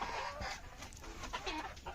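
Two roosters fight up close, with continuous agitated clucking and scuffling that stays loud and busy throughout the short burst.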